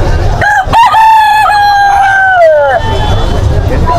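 A stag gamefowl rooster crows once, loud and close, in a long drawn-out call that trails off, while crowd chatter murmurs behind it at a busy market.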